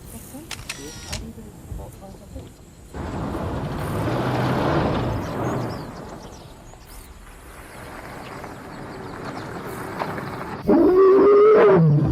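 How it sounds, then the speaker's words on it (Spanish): An adult lion roars out on the Masai Mara grasslands in Kenya, deep rumbling bursts that swell and fade, with a narrator talking over much of it and a vehicle sound near the end. "El rugido del león adulto se escucha a menudo en las praderas de Masai Mara"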